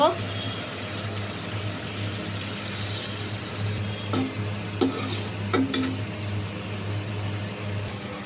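Stem and potato curry sizzles and bubbles in a pan as a little water goes in, with a steady frying hiss, a low hum behind it and a few sharp clinks.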